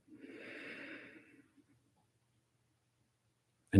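A single slow, audible breath drawn in and let out during a quiet body-awareness exercise, followed by a still pause at the end of the exhale before a brief loud burst cuts in.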